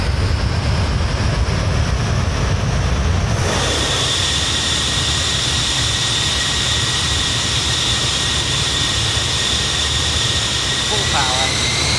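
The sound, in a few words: Avro Vulcan jet engines at 80% for takeoff, MSFS video game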